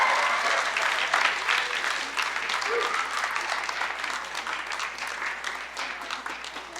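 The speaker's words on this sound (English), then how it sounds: "Give them a round of applause." An audience at a water agency's young innovators program gives a sustained round of applause, dense and close, slowly tapering, with faint crowd murmur beneath.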